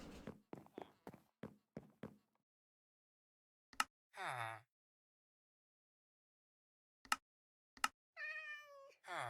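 A cat meows twice in a block-building video game set among mangrove and spruce wood. The meows are clear and separated by silence, with light footstep taps before them.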